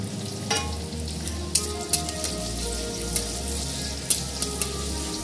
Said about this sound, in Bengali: এবার মাছ ভাজার তেলের মধ্যে আমি পেঁয়াজ ছেড়ে দিচ্ছি।